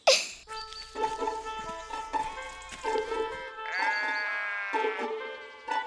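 Several goats bleat one after another, close by, with wavering nasal cries over a quiet background and a faint buzzing of insects early on.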